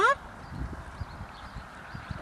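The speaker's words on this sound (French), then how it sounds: "que ton cheval trotte quand même en se poussant" A horse trotting during a riding lesson: soft, rhythmic hoof thuds on the ground at a steady trot pace, with an instructor's voice talking over the strides.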